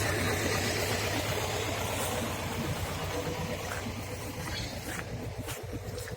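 A hay baler, a Famarol press pulled by a T30-69 tractor, runs close by, its engine chugging in a steady rhythmic pulse with mechanical rattling and clatter layered over the drone.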